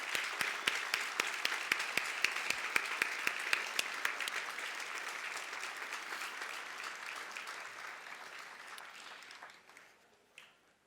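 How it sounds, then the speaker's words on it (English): Warm standing applause from a large commencement audience at Monmouth College honoring the graduating class, dense and steady with sharp individual claps near the start, fading out toward the end. "Would you please stand as we join with the graduates in a warm round of applause?"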